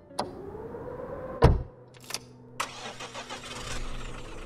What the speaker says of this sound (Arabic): صوت الموتور وهو بيدور، وبعدين العربية اتحركت لقدام وحودت عشان تدخل على الطريق